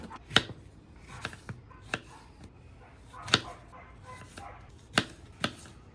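A knife chops an onion on a cutting board for a Korean short rib marinade: a handful of sharp, irregularly spaced chops, close and fairly quiet, with no speech.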